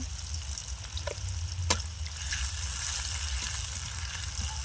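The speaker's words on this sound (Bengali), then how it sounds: "পেঁয়াজটা লাল করে ভেজে নিয়েছি" Onion and ginger-garlic paste fry in oil in a pan, a steady moderate sizzle with a low hum beneath and one sharp clink partway through, no talking.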